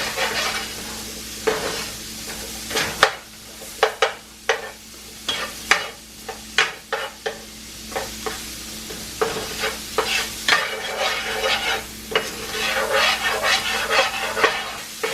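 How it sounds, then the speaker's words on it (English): Turkey wings sautéing with peppers in a pan, a steady sizzle broken by repeated scraping stirs of a utensil against the pan, close and loud throughout. "And saute them for like 2 minutes."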